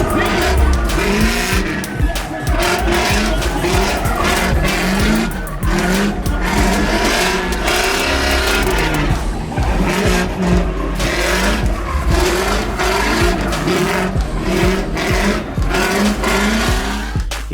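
Turbocharged and naturally aspirated drift cars at the Drift City 2018 event roar and rev continuously, with tires squealing through loud, close slides and brief throttle lifts.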